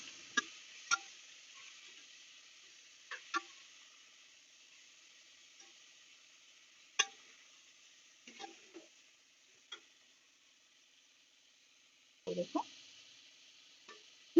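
Raw mutton being stirred and mixed in a pan while cooking a mutton sambar gravy: sparse, faint scraping and clinking strokes of a spoon against the pan, scattered irregularly through quiet.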